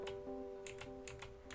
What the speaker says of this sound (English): keyboard a lot more now because I got a new keyboard